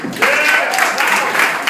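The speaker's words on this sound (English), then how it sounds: "A round of applause to them." Congregational applause at a church service, a steady wash of clapping from the audience filling the room, with some voices mixed in.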